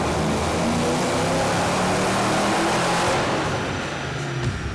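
A supercharged Fox Body Mustang engine roars loud and close at sustained high revs, the tone climbing and holding before easing slightly near the end, with no talking.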